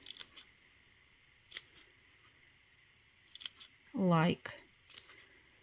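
Scissors cut small triangles from a sheet of chipboard for a journal pen holder: a few faint ticks, then one loud, close crunching snip, with brief speech around it.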